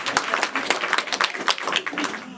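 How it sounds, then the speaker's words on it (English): A live show audience claps for volunteers, a sharp patter of individual handclaps close by, mixed with voices talking over it. "clap for the bravest among us, everyone, our brave volunteers"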